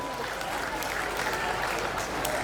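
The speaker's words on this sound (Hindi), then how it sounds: "एक बार दिल खोल के तालियां बजाकर आशीर्वाद दें इन बच्चियों को" An audience at a Ghanchi community education society event in Sumerpur claps in dense, steady applause for a group of girls after their stage performance, with the crowd noise filling the space.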